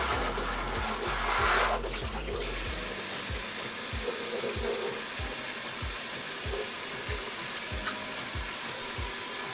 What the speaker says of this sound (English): I do rinse my burrata.